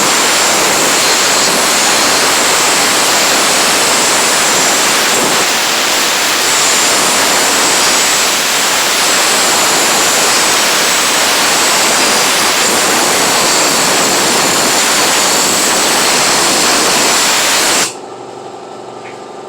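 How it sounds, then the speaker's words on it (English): Compressed air blasting leftover gas and water out of the fuel tank of a Snapper 21-inch EZ Speed lawnmower with a Briggs & Stratton engine: a loud, continuous roaring hiss for about eighteen seconds, then cutting off abruptly. "now we take and we blow out the tank"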